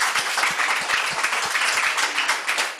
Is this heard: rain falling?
no